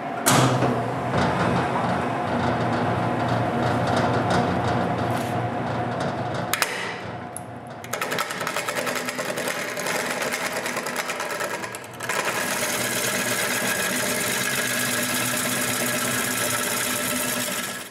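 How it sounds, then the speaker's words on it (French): A wood lathe turns a wooden plate blank screwed to a mounting faceplate, its motor whine and cutting noise steady and loud throughout, with a brief dip partway through before resuming. "je peux tout visser sur le tour puis tourner les côtés ronds"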